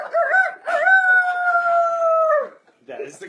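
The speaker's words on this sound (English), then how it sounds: "That is the crow." A rooster crows loudly and close in the morning, a short rising note followed by a long held call that trails off, then a softer cluck-like sound.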